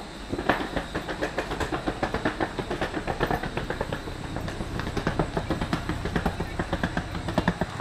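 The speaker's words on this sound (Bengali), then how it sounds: "আমি একটুখানি স্টেশনটা দেখাই।" Trains at Katni South railway station produce a steady rhythmic clickety-clack of wheels over rail joints, moderately near, with faint hiss and a voice briefly in the background.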